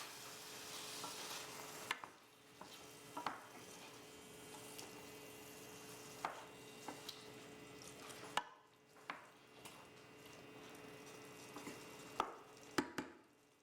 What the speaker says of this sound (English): Stir to combine.